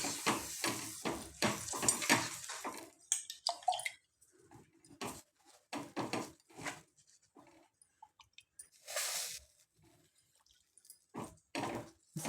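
Water patted by hand onto a round of jowar and bajra bhakri dough in a home kitchen, heard as a run of soft, uneven wet dabs and splats, close and fairly quiet, with short pauses between them.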